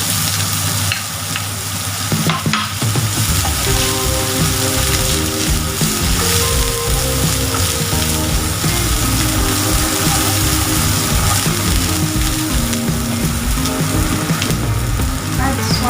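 Spring onion stir-fried in a hot pan for Chinese-style fried tofu puffs stuffed with Omni pork, a loud, steady sizzle with continuous stirring and scraping that runs the whole time.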